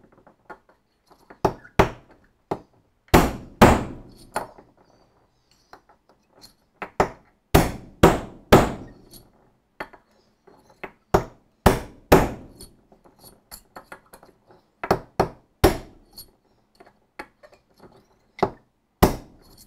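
A hammer taps on a metal part of a Chinese semi-universal dividing head, making sharp, close, ringing strikes in irregular clusters of one to three hits separated by pauses.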